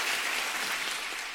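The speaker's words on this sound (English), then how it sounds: "please join me in applauding Huanting Tsuyong and her team for putting together such an incredible" Sustained applause from a convention audience at a keynote session in Kuala Lumpur, a dense even patter of many hands filling the room at moderate level without pause.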